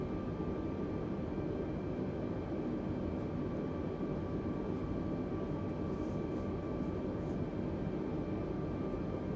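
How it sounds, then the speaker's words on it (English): An A320neo's flaps extend inside the cockpit in Microsoft Flight Simulator: a steady, loud cabin drone with a faint mechanical whine runs unbroken throughout. "Flaps moving."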